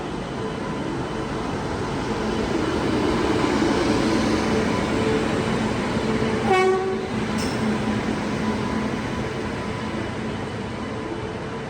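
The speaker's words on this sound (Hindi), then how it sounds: "यहाँ पर प्लेटफॉर्म पर जो है ट्रेन आ गई है" The Karnataka Express rolls along a station platform, a loud sustained rumble of wheels and carriages with a brief horn blast partway through.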